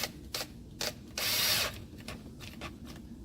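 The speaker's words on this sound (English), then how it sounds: "Use your 5/16-inch nut driver and tighten that up just as tight as you can make it." A 5/16-inch nut driver tightens a stainless steel clamp on a rubber no-hub coupling for a backyard sump basin, giving several short ratcheting clicks and one longer whirring burst in the middle. The sounds are close and moderately loud.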